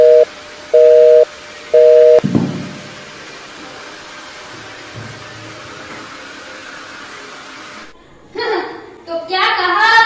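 A telephone busy tone sounds as three evenly spaced loud beeps after a call is hung up, followed by a thump and a low hiss.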